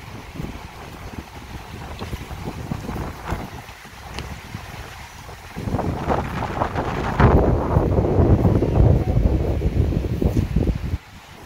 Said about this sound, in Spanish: Está haciendo un viento enorme.